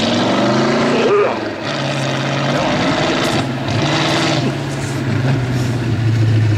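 A Ford Model A hot rod's engine revs and roars on a race track, with its pitch shifting as it drives past. An announcer's voice talks over it.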